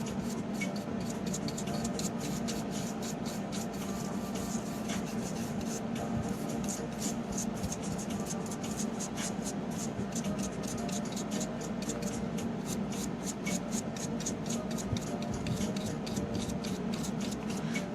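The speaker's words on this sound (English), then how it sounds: "after scrubbing it off and sweeping off the remnants of the eraser" An eraser scrubs steadily back and forth across the contacts of a 1988 Super Mario Bros. 3 Nintendo cartridge, giving a continuous close rubbing, rasping sound with a fast, even rhythm throughout and no talking.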